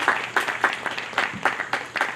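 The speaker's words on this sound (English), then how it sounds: "give him a round of applause again" An audience applauds the winner of a songwriters contest at Bell Buckle. Steady bursts of clapping come in loose waves at a moderate level, with no voices over them.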